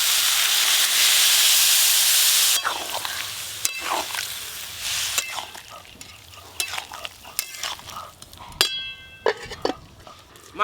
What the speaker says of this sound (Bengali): ভাজা ভাজা হয়ে গেছে, এবার জল দিয়ে সিদ্ধ করে নেব।